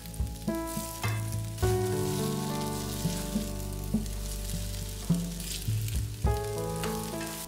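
Kaiserschmarrn, a torn pancake batter dish, sizzles and fries in a pan after being flipped, a steady close crackle broken by clinks and scraping of a utensil against the pan.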